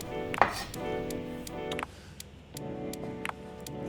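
A knife cutting ingredients into thin slices for Thai green curry, sharp crisp taps on a board at an uneven pace, close and clear with no talk.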